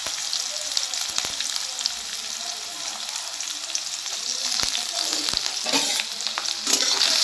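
Onion and green chillies frying in a pan produce a constant bright sizzle broken by irregular clicks and scrapes of a spatula stirring, growing slightly busier toward the end.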